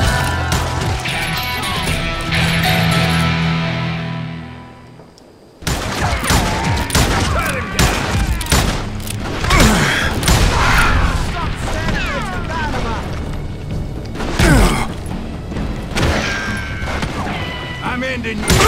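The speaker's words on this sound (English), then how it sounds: "We're under fire!" Rapid gunfire from a Wild West shootout in the video game Call of Juarez: Gunslinger, dense bursts of shots and impacts after a short lull, loud and continuous over game music and shouted voices.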